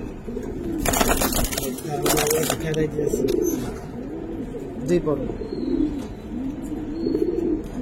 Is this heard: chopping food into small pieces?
no